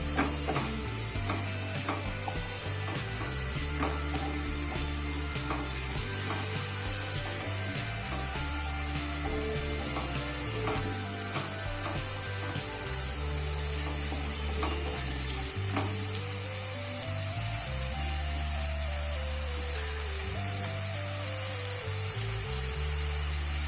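Spices sizzle in a pan and are stirred together as the base for a shrimp, raw banana and potato ghonto, giving a continuous soft frying hiss with occasional scrapes beneath steady background music.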